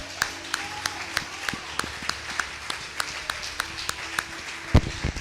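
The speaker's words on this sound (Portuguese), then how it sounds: "Você pode aplaudir Jesus" Members of a church congregation clap together in a steady, rhythmic beat during a sermon, the claps fairly faint and evenly spaced over a low background hum, with one heavier thump near the end.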